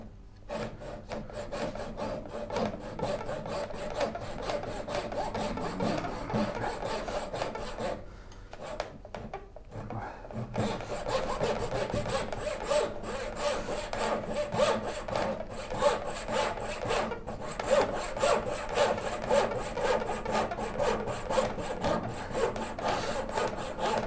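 A hand saw cuts wood for a Shaker cabinet in long rhythmic rasping strokes, a brief pause near the middle, then faster steady sawing continuing to the end.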